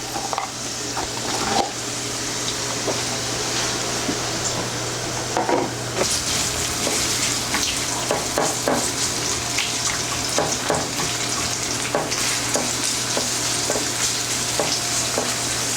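Onions caramelizing in a frying pan for a Spanish tortilla, with potatoes to follow, give off a steady close sizzle. Scattered clicks and scrapes of stirring sound throughout, with no talking.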